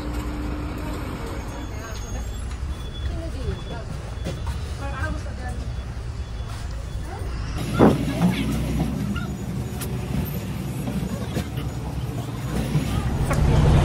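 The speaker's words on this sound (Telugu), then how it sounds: "ఇది మనం ఎక్కే బస్సు." A bus idles and moves along a roadway with steady low engine rumble and traffic noise throughout, a louder passing vehicle swell near the middle, and background chatter from people nearby.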